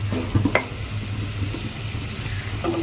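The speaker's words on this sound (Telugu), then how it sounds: "మసాలా వేగింది కదా" A spice paste of poppy seed, cardamom and clove fries for chicken biryani, giving a soft, continuous sizzle with a few light clinks from the pan early on and no talking.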